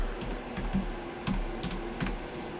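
A computer keyboard being typed on to enter a new password while setting up a Poolin mining account: close, crisp key clicks in quick uneven clusters with short pauses between, alone in a quiet room.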